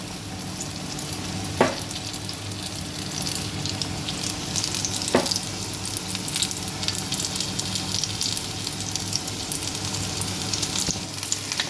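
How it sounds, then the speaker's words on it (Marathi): Corn pakoras deep-frying in hot oil, a dense continuous bubbling sizzle with a few sharp clicks of a utensil against the pan. "आता ही भजी आपण छानपैकी तळून घेऊया दोन्ही बाजूनी."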